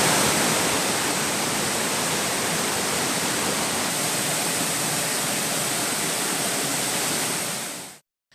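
Kovai Kutralam falls in flood roars as a dense, steady rush of water, loud and unbroken, then cuts off abruptly.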